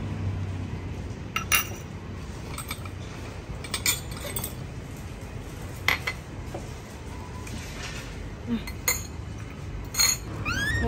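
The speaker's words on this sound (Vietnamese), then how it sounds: "chị lấy bát đĩa ra cho mình nhé" Ceramic bowls and plates clink in scattered, sharp taps as they are taken out for a breakfast of sticky rice with chicken, with people chatting nearby.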